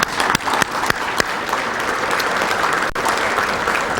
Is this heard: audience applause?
yes